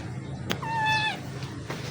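A cat named Max gives one clear, close meow with a rising then falling tone, set against a steady low hum and a couple of faint clicks.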